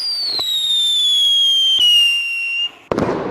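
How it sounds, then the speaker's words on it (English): A North Korean missile launch: a long descending whistle holds steady for over two seconds, then breaks off into a sharp, loud burst of noise near the end, with brief thumps along the way. "Here's North Korea launching the missile."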